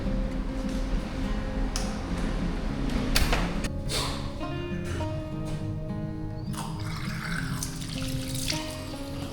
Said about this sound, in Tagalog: Hugas ng kamay.